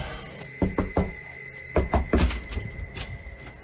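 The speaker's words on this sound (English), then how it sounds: "the knocking starts at the other side of the room" Knocking on a door inside a room, heard as a few separate dull thuds in small clusters, fairly close, with quiet room noise between them and no talk.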